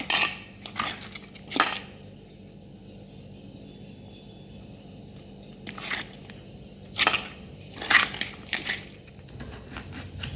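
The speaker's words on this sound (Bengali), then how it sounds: "এবার মাখিয়ে নেবো মাছটাকে।" Rohu fish pieces worked by hand in a bowl with salt, turmeric and chilli powder: intermittent squishy rubbing and bright clinks against the dish, with quiet pauses between bursts.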